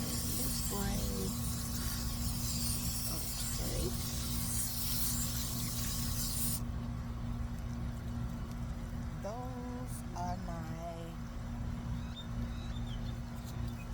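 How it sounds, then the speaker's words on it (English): Gentle water spray over freshly sown carrot seeds in garden soil, a steady broadband hiss for the first half that then cuts off, leaving quieter background with a few brief chirps. "So we just gently spray."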